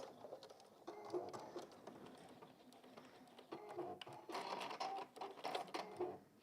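A sewing machine stitches through a bag in quick, steady mechanical bursts at close range, running in spurts with brief pauses between runs.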